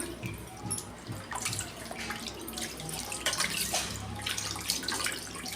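Water runs and splashes steadily into a copper pot, with clinks and scraping as it is rinsed clean, continuous throughout at close range.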